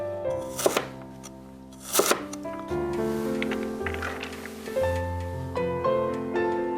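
Knife chopping on a board, dicing ingredients for glutinous rice siu mai in a home kitchen; a few sharp chops stand out early, then steady rhythmic dicing continues under background music.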